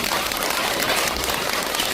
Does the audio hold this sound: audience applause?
yes